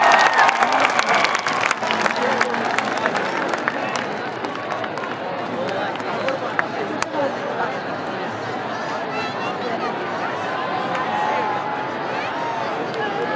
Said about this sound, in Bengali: সবাই মিলে হাততালি দিন।